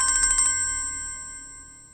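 A phone ringtone chimes in a quick burst of repeated electronic tones during the first half second, then one sustained tone lingers and slowly fades in an indoor domestic setting, with no talking.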